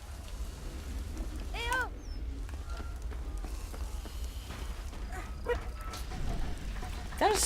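Dog whimpering and yelping in the World War I video game Valiant Hearts: The Great War, several short whining cries over constant game ambience, with a person talking at times.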